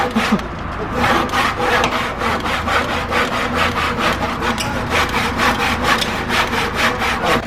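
A hand saw cutting through a reclaimed cedar wood beam, loud, close and rhythmic back-and-forth strokes rasping steadily throughout with no pause.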